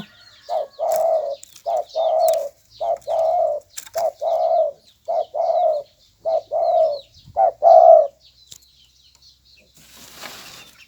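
A pet dove coos in a clear repeated series of about a dozen evenly spaced, mellow notes close by, with faint chirps and a brief flutter of rustling at the end.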